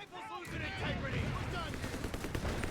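Rapid suppressive gunfire in the Company of Heroes 3 strategy game, a dense sustained burst that starts about half a second in and rolls on loudly to the end, mixed with game battle noise.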